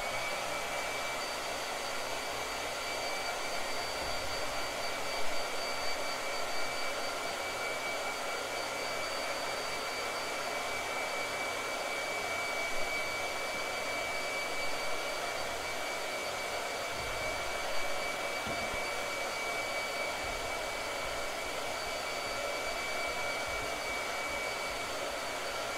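Blow dryer running steadily at close range for the whole stretch, a constant loud whooshing whine with no pauses and no one talking.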